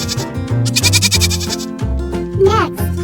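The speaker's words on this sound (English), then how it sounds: "The goat says, "Bleat."" A goat bleats in a few wavering, voice-like cries, fairly close and loud, over light background music in a children's farm animal lesson.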